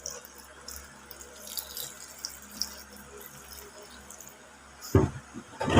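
Water runs steadily from a tap into a tub after coin cleaning, a soft continuous rushing stream at moderate distance, ending with a few louder splashes and clunks near the end.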